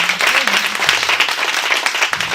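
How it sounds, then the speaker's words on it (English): Audience applause for a young speaker at a youth event, loud, close and continuous clapping from a crowd with no pauses, faint voices mixed in. "Big applause for her."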